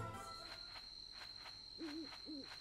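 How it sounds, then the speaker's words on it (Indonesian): A crow calls twice near the end inside the Demon Slayer: Kimetsu no Yaiba – The Hinokami Chronicles video game, two short hoarse caws over a steady high tone and faint ambient game sound. "Ini gagak lagi nih gagak"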